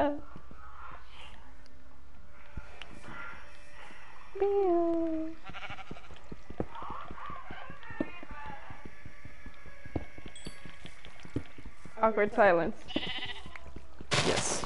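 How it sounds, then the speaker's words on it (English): Minecraft sheep give a couple of short bleats in the middle, heard over game footsteps, clicking block sounds and a player talking. "Sheep!"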